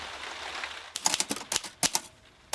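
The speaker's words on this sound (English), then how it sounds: "I am just on the grisly job of typing out my novel." A manual typewriter clacking as a novel is typed out, irregular bursts of sharp keystrokes close by after a quiet hiss, with no voices.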